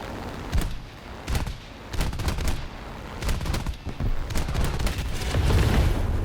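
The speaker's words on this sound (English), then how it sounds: "There's only 30 rounds of ammo for that 37mm cannon, so I try to just fire off 2 or 3 rounds at a time" Short bursts of heavy 37mm cannon fire from a Yak-9T fighter in a flight combat video game, loud repeated thumping shots in uneven clusters over a constant engine drone.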